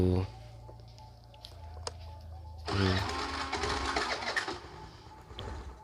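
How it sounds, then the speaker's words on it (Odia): On a very cold morning, a vehicle engine struggles to start, giving repeated cranking bursts that catch into a rough running clatter, with a voice briefly heard. "ସକାଳୁ ସକାଳୁ ଗାଡ଼ି ଷ୍ଟାର୍ଟ ନେଉନି କାହିଁକିନା ଅତ୍ୟଧିକ ଥଣ୍ଡା ହେଇଯାଇଛି ବୋଧେ ଇଞ୍ଜିନ୍ ସେଥିପାଇଁ ଷ୍ଟାର୍ଟ ନେଉନି"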